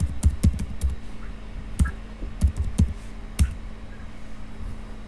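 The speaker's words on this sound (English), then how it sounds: "I'm typing in short" Short irregular bursts of computer keyboard keystrokes, close and moderately loud, clustered in quick runs with brief pauses between them, with no talking over it.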